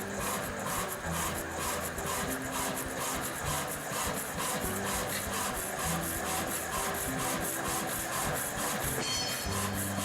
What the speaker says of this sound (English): it's hydraulically fed down into the workpiece, just slowly coming down